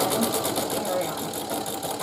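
Sewing machine back stitching a quilted table runner, a steady close rapid needle chatter running throughout while a voice talks over it.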